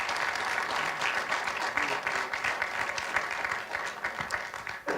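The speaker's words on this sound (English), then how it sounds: "I just want to give them a round of applause" A workplace group gives a round of applause for a team at a continuous improvement report-out meeting: dense, steady clapping from many hands, close and fairly loud, lasting the whole stretch without letup.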